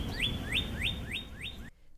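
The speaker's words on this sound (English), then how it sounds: "Flowers are blooming and birds are singing in the community garden." Birds sing in a community garden on the Brooklyn College campus, with five clear rising chirps repeated at an even pace before the sound cuts off abruptly.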